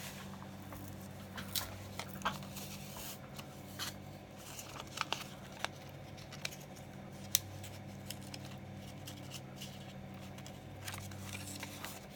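Small scissors snip paper while cutting out a stamped image for a handmade card, quiet close crisp snips scattered irregularly over a soft background hum.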